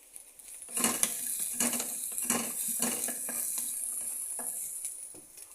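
Cumin seeds crackle and sizzle in hot oil in a pan for a bean seed curry, with a steady close fry and several sharp spoon-and-pan clinks as they are stirred.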